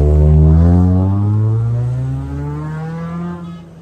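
Car doing donuts at the Dhaka Motorfest 2024 motor show, a loud, sustained engine drone with a pitch that slides downward, heard at a distance.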